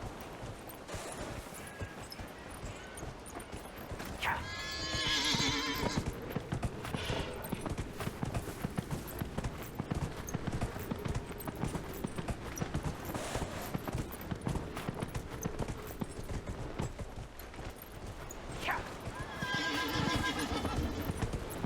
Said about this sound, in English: My zombie horse and I love it.